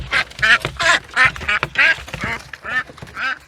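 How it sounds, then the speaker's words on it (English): A drake duck gives a run of loud, close, raspy quacks in quick rhythmic bursts, sounding much like a hen's call. "That should be a drake. He's quacking like a hen."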